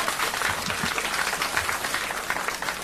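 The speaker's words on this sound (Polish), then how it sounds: "I tutaj dopiero przewidziane są brawa." Audience applause at a 1984 cabaret performance, a full room clapping continuously and evenly at close range for a few seconds.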